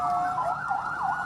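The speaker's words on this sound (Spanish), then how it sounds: "Ambulancias a toda velocidad haciendo sonar sus sirenas" Ambulance sirens wail in a rising and falling sweep, loud and steady throughout with traffic noise beneath, as ambulances speed through a crowded border crossing area.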